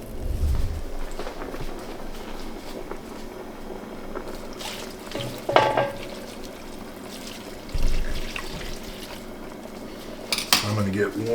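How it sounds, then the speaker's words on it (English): A cup of water is poured into a pot of collard greens cooking with bacon and garlic, with soft trickling, clinks of metal cookware and utensils, and brief louder clatters over quiet kitchen background. "this is the 20th cup of water that we're going to add"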